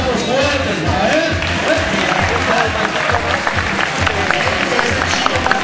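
Loud, sustained applause fills the crowd at a seal show, dense clapping continuing throughout with people talking over it.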